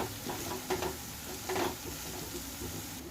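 Ginger and garlic frying in a pan while being stirred, a steady low sizzle with a few soft scraping strokes of the spoon, fairly quiet and close.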